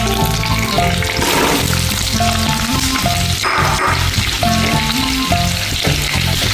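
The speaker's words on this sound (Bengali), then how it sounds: "আলুগুলোকে সুন্দর করে আমি ভাজা ভাজা করে নেব।" Potatoes frying in a pan while mutton liver curry is being cooked, a loud continuous sizzle with soft scraping and stirring, close up and without talk.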